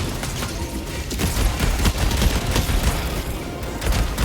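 Dense gunfire in the video game Helldivers 2, rapid overlapping shots and booming blasts forming a loud continuous barrage.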